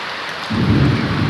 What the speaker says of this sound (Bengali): এখন কিন্তু অনেক বৃষ্টি আছে আর অনেক জোরে বৃষ্টি হচ্ছে